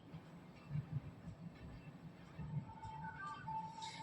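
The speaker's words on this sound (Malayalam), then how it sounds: "ഏതോ ഒരു പാസഞ്ചർ ട്രെയിൻ പോകുന്നുണ്ട് ഇപ്പൊ" A passenger train passes at a distance, a faint low rumble with soft rolling clatter and a brief thin tonal whine near the end, heard outdoors at low level.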